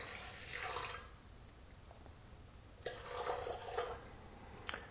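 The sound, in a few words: pouring water into a kneading machine for pizza dough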